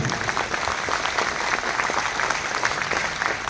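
An office audience gives loud, continuous applause for zonal manager Shoibal, a dense, close clatter of many hands sustained evenly throughout.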